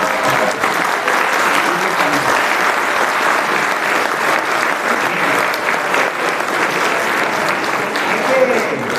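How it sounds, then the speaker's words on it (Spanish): Sustained audience applause at a forum of the Mexican electricians' union on the electricity sector, steady and loud for the full stretch, with some voices mixed into the clapping crowd. "yo sí les pido un aplauso, claro que sí"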